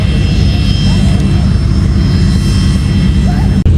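At an airshow in Mudgee, a loud, steady aircraft engine drone holds throughout with a constant low roar and faint higher tones above it.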